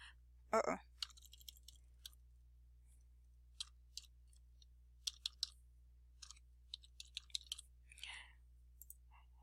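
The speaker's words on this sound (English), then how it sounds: "I'm going to just type it" Sparse, quiet clicks of typing on a computer keyboard, irregular single keystrokes spaced across a near-silent room with a low steady hum and a brief louder knock early on.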